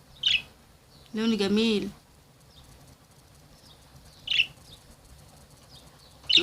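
Pet finches kept in a cage give short, bright chirps, one near the start and more around four and six seconds, with a brief stretch of speech in between and quiet room hush elsewhere.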